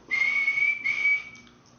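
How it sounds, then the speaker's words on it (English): Someone whistles to scare away bats, giving two sustained, steady-pitched whistles in quick succession, clear and fairly close against a quiet background. "We used to whistle at the bats because the bats hate whistling."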